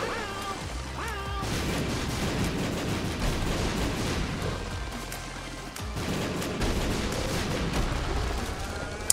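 Bombs explode again and again in a video game, a steady barrage of booming, crackling blasts that runs nearly the whole time at a fairly loud level.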